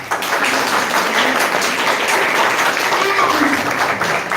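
Clapping from the audience at an International Women's Day felicitation of women achievers, a loud, dense wash of applause sustained throughout with cheering and voices mixed in.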